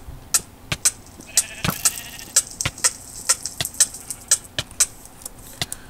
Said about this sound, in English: spawn the sheep again and then hurt myself